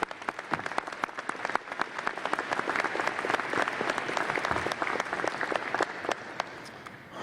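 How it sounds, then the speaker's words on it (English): A large audience at a university presidential inauguration ceremony claps steadily, crisp individual claps standing out within a full, sustained applause that holds for several seconds. "Let's give them a round of applause."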